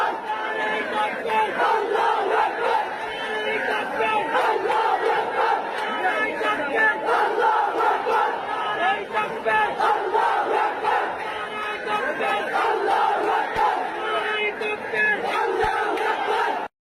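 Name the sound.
stadium crowd chanting Naraye Takbir, Allahu Akbar after a match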